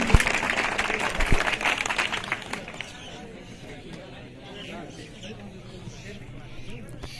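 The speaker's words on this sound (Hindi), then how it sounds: "एक जोरदार तालियां उमा सर के लिए" Applause at a school science quiz prize event for a physics teacher, brief and moderately loud for the first two and a half seconds before fading into quieter room murmur and talk.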